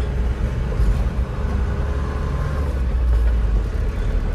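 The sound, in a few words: 14-tyre cement truck climbing uphill in low gear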